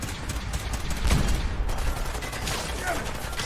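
Rapid bursts of gunfire from a tactical Gauss rifle prototype in a video game, a dense loud fusillade with a heavier impact near the middle, continuing steadily throughout with a voice faintly underneath.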